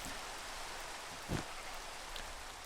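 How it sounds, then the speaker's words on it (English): Steady rain falling in a village-building video game, a soft continuous hiss of drops with one brief low thump partway through, faint and even throughout. "Don't need rain while I'm doing this."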